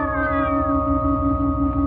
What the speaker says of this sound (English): What's that racket? Just cats.